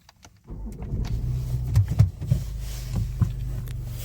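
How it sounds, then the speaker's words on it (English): After a moment of quiet, a Range Rover Evoque engine cranks and catches after a blocked DPF fix, settling into a steady low idle close by, with a few clicks over it. "Now we start the car up."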